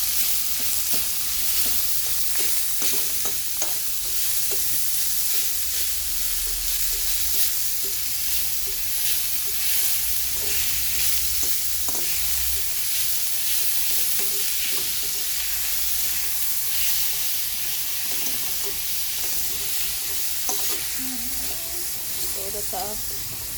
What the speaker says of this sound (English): Now I'm gonna add the minced beef to that. So now I'm gonna just break this up.